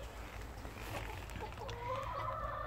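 Broody hens in a farmyard chicken area cluck steadily and close by, with a soft continuous background murmur and no clear talk.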